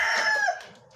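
A Hennie line rooster of the Nelson Black line crows once, loud and close, in a backyard farm, with clucking trailing off at the end.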